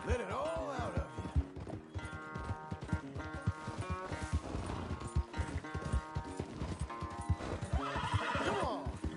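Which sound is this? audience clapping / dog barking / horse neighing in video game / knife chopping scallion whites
horse neighing in video game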